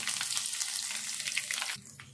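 Spices tempering in hot oil crackle and sizzle loudly in a steady rush for a couple of seconds before it briefly quiets, a close frying hiss during old-style horse gram rasam cooking.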